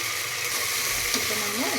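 Ginger garlic paste fries with browned onions in a pan, giving a steady close hiss and sizzle throughout while a voice speaks briefly near the end.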